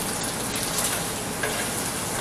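Hot butter sizzles in a pan, a steady, close, broadband crackling hiss that holds even throughout, with no talk.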